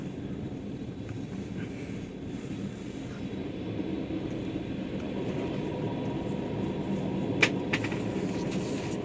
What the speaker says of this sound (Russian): Подъезжаем к железнодорожной станции.